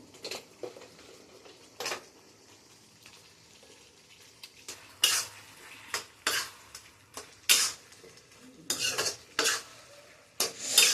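Fried chicken pieces being stirred in a metal pan for dry chilli chicken, with a spoon scraping and clanking against the pan in irregular bursts over a soft sizzle, the strokes growing louder and busier toward the end.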